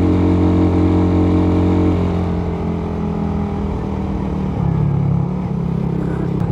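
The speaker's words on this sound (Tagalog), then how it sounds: "Hirap na hirap talaga yung motor natin dito." A Suzuki Raider 150 carburetor motorcycle engine labouring up a steep curving mountain road, a loud continuous drone that dips in pitch midway and shifts as the rider works through the bend, with no speech.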